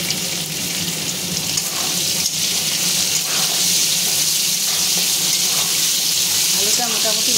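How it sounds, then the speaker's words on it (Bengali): Potatoes frying in a pan for a shrimp and banana-blossom ghonto, giving a steady, loud, close sizzle with faint stirring scrapes throughout and no talking. "আলুটা মোটামুটি ভাজা হয়ে গেছে"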